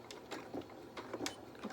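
A sewing machine stitches a jeans pocket, back-stitching briefly to lock the threads, giving a quiet, rapid, rhythmic run of mechanical stitch pulses lasting under two seconds.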